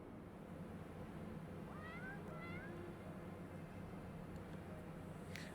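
A cat in Final Fantasy XIV gives a couple of faint, short meows over a steady low ambient hum, distant and brief.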